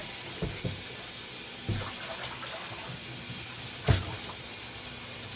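Steady water noise with a few soft knocks and splashes as freshly harvested beets and carrots are rinsed and moved around in a bucket under running warm water.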